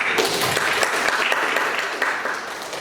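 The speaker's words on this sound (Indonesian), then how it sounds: "Tepuk tangan buat Mas." Students applaud in a classroom for a classmate, a steady patter of many hands clapping at moderate volume, thinning slightly toward the end.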